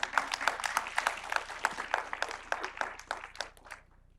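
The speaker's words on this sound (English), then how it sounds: "round of applause for that," An audience at a community organizing session gives a round of applause, scattered claps of moderate density that thin out and fade toward the end, heard faintly without talk.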